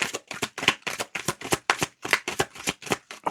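Tarot cards being shuffled close up: a quick, regular run of crisp riffling bursts, about three or four per second.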